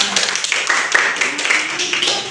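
A classroom group claps hands together after a presentation, a brief burst of scattered, fairly close clapping with a few voices mixed in.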